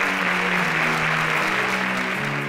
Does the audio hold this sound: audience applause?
yes